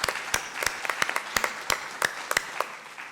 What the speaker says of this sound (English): So you've preempted me and given them a round of applause.